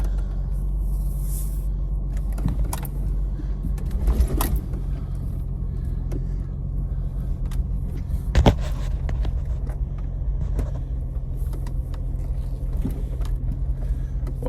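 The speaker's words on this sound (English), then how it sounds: "let's go for a little spin around the neighborhood" An old Jeep rolling through a neighborhood gives a low, steady engine rumble close by, with a few light rattles and clicks scattered across the drive and no voices.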